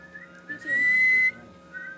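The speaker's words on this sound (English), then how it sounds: "I think that one was whistling in." A single steady whistle made while breathing in, a clear pure tone lasting under a second, close and fairly loud in a quiet room.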